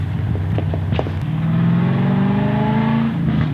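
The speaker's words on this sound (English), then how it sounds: "I'm at the lookout, so there's cars driving past all the time." Cars driving past a roadside lookout at Lindesay Rock, engines humming and accelerating close by, one vehicle rising in pitch as it passes, loud against an outdoor background.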